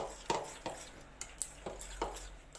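A spoon stirring a nut and oat mixture in a bowl, with repeated scraping and clinking strokes at a steady, unhurried rhythm, close and fairly quiet.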